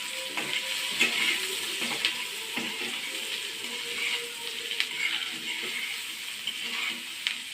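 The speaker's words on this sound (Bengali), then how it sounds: "বন্ধুরা পেঁয়াজটা ভাজা ভাজা হয়ে গেছে।" Onion frying in a pan with salt and a pinch of turmeric, a quiet, steady sizzle with soft stirring scrapes throughout, no voices.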